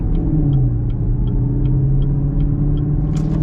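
A 2022 Chevy Camaro 2SS V8 pulls under steady load, a loud, continuous low engine rumble with a faint ticking pattern running through it and a brief hiss near the end.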